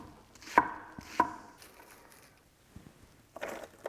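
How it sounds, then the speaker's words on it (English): A knife chops a juicy peeled onion on a board, with two sharp loud cuts followed by several softer, irregular knocks and taps, close by and with no talking. "So I picked the juiciest onion I could find and peel and chop it and add it to the blender as well."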